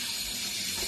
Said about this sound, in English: So first you'll rinse the lentils under the tap.